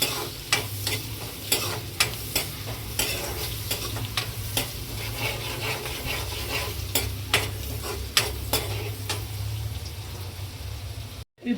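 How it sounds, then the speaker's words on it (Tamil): Onions sautéing in butter in a pan, a steady sizzle with repeated sharp scrapes of a spoon stirring at a regular rhythm, close and fairly loud with no talking. "நல்லா வதக்கிக்கங்க."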